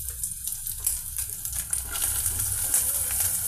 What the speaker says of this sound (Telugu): ఇక భేండి పీసెస్ అండి. వీటిని ఇప్పుడు మనం ఇందులో యాడ్ చేద్దామండి.